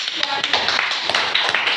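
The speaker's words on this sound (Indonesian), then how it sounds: "tepuk tangan buat Nur" Classmates clap for a student named Nur during a microteaching practice lesson in a classroom, a brief scattered round of hand claps close by, with some voices mixed in.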